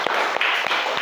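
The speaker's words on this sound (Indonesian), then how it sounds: "tepuk tangan untuk Alei" Children clapping together in a primary school classroom, a dense rapid patter with a few sharper claps standing out, close and lively for about a second.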